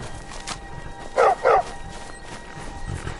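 A trained war dog in a PS4 video game gives two quick, loud barks close together, standing out against a quiet ambient game background.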